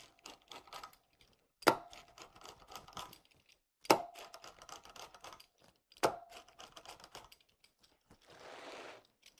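A knife presses through pizza dough, cutting it into garlic fingers in a few sharp, rhythmic strokes on a board, each followed by softer scraping and tapping, with a brief hiss near the end.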